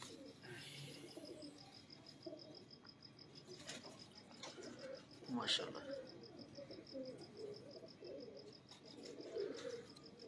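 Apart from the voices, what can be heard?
pigeon cooing, a Jaunsira pigeon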